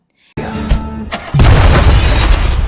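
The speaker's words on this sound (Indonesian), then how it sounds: "mobil itu tiba-tiba meledak dan menewaskan mereka berdua" Silence breaks into a sudden loud boom as a car explodes, followed by a second, heavier blast that leaves a roaring, crackling rumble.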